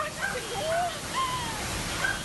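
Loud, steady rush of churning flash-flood water through city streets fills the clip, a broad roaring wash with faint voices or tones faintly audible above it.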